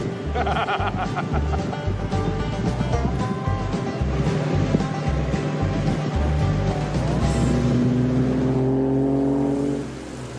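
A Packard car drives steadily at close range, its engine drone and road rumble continuous and loud for about ten seconds, with some laughter mixed in, before the engine note falls away near the end.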